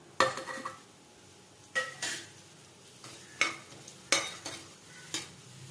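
Biryani masala fries in ghee in a pressure cooker, a quiet background sizzle broken by several sharp metallic scrapes and clinks of a spoon against the pot, close and with no voices.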